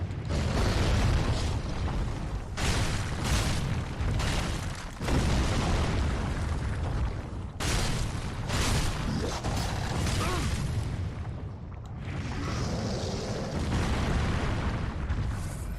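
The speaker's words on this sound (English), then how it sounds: "Talking about the rock spray." The Stray Demon in Dark Souls 3 launches a rock spray attack: heavy rumbling booms and crumbling, grinding debris, loud and sustained, with repeated crashing surges.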